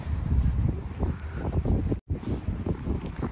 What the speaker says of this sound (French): il fait froid le vent là